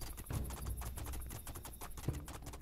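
Horse hooves clip-clopping at a steady gallop while riding in the fantasy game Two Worlds II, a continuous rhythmic patter of hoof strikes with a couple of sharper thuds, moderately quiet and without talk.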